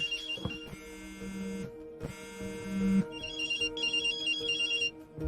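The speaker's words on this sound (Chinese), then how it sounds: "你给赵小玲打电话干啥？" A mobile phone ringtone plays a looping electronic melody with steady tones and repeated phrases, fairly loud and close, with no talk over it.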